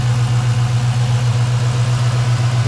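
A 2005–2009 Ford Mustang GT V8 idles steadily, a loud, even low hum with a constant droning tone and no revving, close by and uninterrupted.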